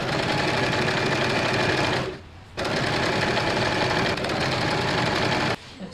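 A sewing machine stitches the curved edge of a blouse at a slow, steady pace, its dense mechanical whirr loud and close. The run stops briefly partway through and then resumes, and it cuts out again just before the end.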